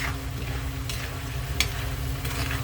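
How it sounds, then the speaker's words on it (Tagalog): Cooking oil boils and sizzles in a pan for peanut adobo, with a steady crackling hiss and a few sharp scraping strokes as it is stirred, no voices. "at kumukulo na yung ating mantika. Siyempre, halo-haloin natin para pantay yung nakaluto"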